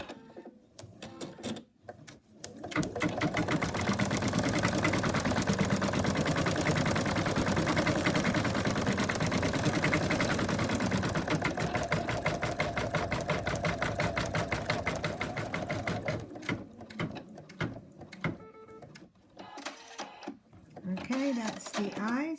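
An embroidery machine stitches the eyes of a cat design on minky fabric topped with water-soluble stabilizer. It runs as a loud, steady, rapid mechanical chatter for about fourteen seconds, then stops and gives way to quieter handling noises.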